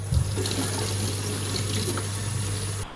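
Tap water runs steadily into a bottle being filled with water for topping up a burst Subaru radiator, a constant close rushing flow that cuts off near the end.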